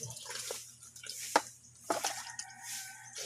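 Water drips into a container in a quiet outdoor setting, a few distinct clear drops falling at uneven intervals over a faint background hum.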